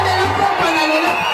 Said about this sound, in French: Est-ce que quelqu'un peut pousser des cris de joie très fort ce soir?